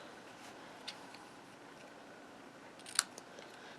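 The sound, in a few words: snips clipping cardstock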